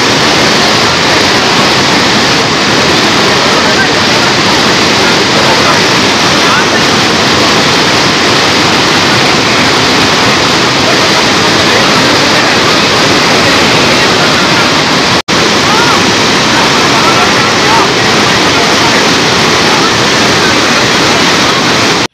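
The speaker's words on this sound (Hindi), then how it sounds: "देख सकते हैं पानी की बहती हुई धारा, जो कि आप अनुमान लगा सकते हैं कि कितना तेज़ गति होगी पानी की" Fast-flowing river current near the Rajrappa temple bathing area, a loud, constant broadband rush of churning water with no pauses, close to the microphone and unbroken for the whole stretch.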